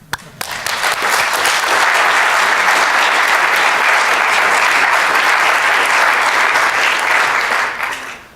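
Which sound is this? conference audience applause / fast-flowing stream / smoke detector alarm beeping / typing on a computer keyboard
conference audience applause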